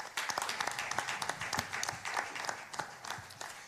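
Applause at an intellectual property and music industry event honoring a government minister, a steady round of many hands clapping with dense, overlapping claps throughout, moderately loud.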